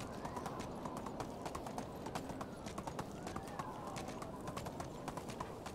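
Horse hooves clip-clop at a steady walking rhythm in the medieval farming game Medieval Dynasty, a soft, quiet, continuous stream of hoofbeats with no talking over them.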